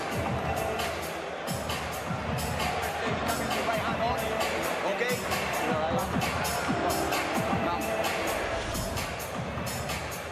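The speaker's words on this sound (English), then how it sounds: "This Leeds crowd in fine voice tonight, as they always are" A Leeds boxing crowd roars and cheers through a fight, a loud, dense wall of voices with constant babble and swelling shouts, no single speaker standing out.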